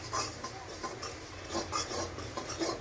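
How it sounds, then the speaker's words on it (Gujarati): Paneer being grated by hand makes soft rasping, scraping strokes in a quick irregular rhythm, close and fairly quiet, with no talk. "તો આવી રીતે આપણે પનીરને ગ્રેટ કરવાનું છે, આખું નાના નાના ટુકડા."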